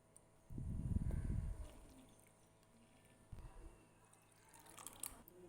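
Water is poured into a mixer-grinder jar holding maida flour for chatti pathiri batter: a close, splashy gush lasting about a second and a half, then a shorter trickle and a few faint drips.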